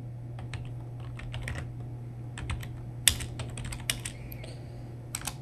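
A Linux command is typed on a computer keyboard: scattered, irregular key clicks, quiet and close, over a low steady electrical hum.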